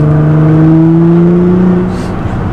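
Nissan GT-R supercar engine switched into manual and race mode, holding a loud, steady revving drone close by that eases off slightly near the end.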